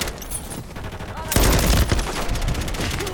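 Gunfire from the video game Modern Warfare 3 erupts into a loud burst of rapid automatic shots partway through, following quieter game noise, with a voice speaking over the action.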